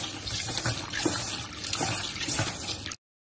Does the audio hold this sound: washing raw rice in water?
yes